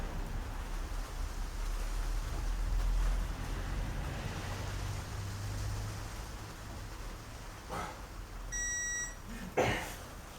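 A digital torque wrench tightening a bolt on a Lister LD1 engine gives a short run of clear electronic beeps near the end, over a low background hiss.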